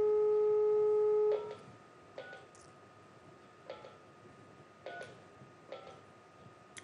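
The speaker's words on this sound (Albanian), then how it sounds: "jep një sinjalin telefon" Telephone line feed during a live TV broadcast: a steady dial tone runs for over a second, then about seven short, faint keypad tones follow at uneven intervals.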